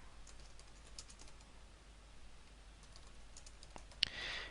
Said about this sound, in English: you can type stuff here